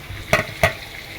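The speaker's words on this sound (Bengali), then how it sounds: "পেঁয়াজ আর গোস্ত গরম মশলা দিয়ে এখন ভেজে নেব।" Meat sizzles in a pan with onion, garam masala, ginger and garlic, a steady close frying hiss broken by two quick scraping stirs of the spoon.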